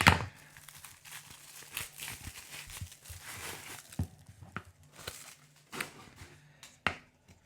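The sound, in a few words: plastic packaging of a Vashkovych drymba being cut open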